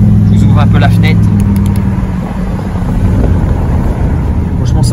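Low, steady engine drone heard from inside a moving 1989 Audi V8 with stainless exhaust, with wind rush and a voice speaking over it.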